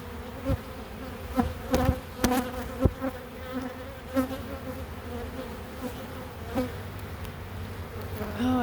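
Honeybees buzzing densely at an open hive during an inspection, a steady close drone with individual bees whizzing loudly past now and then.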